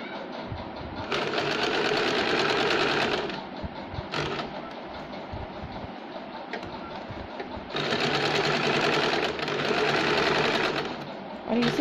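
A sewing machine runs in two long bursts, double-stitching a blouse lining for a katori blouse, with a brief pause and a quieter stretch between the loud, steady whirring runs.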